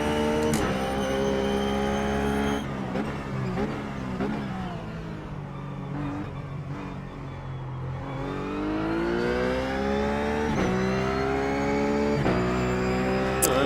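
A Ruf GT3 race car engine at Sonoma in iRacing revs steadily close up, with its pitch rising and dropping through gear changes and corners. The engine tone stays loud and continuous, with sharp shifts and brief lifts in between.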